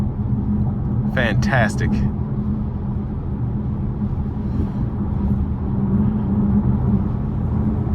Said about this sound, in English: And with this dual clutch, it shifts so quickly.